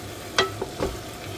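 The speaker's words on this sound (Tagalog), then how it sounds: "So, haluin na naman natin." Spicy chicken curry being stirred in a pot, a few soft scraping knocks of a spoon over a quiet bubbling simmer, close and brief with no talking.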